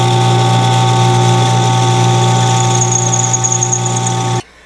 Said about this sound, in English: So we can bring over to the drill press and drill it out